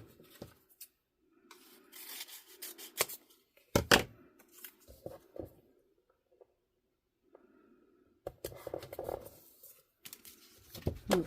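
Scissors snipping through paper to cut out an anchor shape for a floral and butterfly epoxy tumbler, with bursts of rubbing and crisp cuts separated by quiet pauses, close by.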